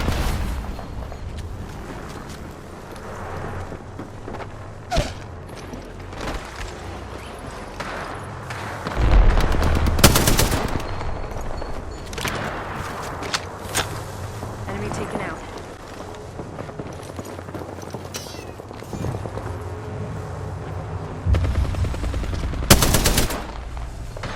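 Automatic gunfire in a ranked match of the video game Apex Legends, with rapid bursts and a couple of loud heavy shots standing out over a steady bed of game sound, while an in-game voice calls out lines.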